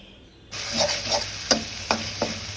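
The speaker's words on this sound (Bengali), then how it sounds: "এখন দিয়ে দেব বেটে রাখা মশলা।" A paste of ground ginger, garlic, onion and green chili lands in hot oil with a sudden loud sizzle. A few sharp spatula knocks follow as it is stirred in the pan.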